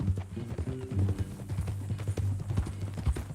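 Hooves of a horse clip-clop in a steady walking rhythm in Red Dead Redemption 2, close and moderately loud over a low hum of game ambience.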